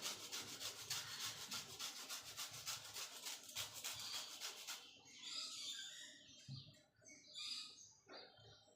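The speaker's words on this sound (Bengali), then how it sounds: "গন্ধরাজ লেবু নিয়েছি, গন্ধরাজ লেবুর মানে সবুজ অংশটা দিয়ে দেব ঘষে" Gondhoraj lemon rind rubbed against a grater, its green zest scraped off in a quick run of dense, rough strokes that stop partway, followed by quieter scattered sounds with faint bird chirps behind.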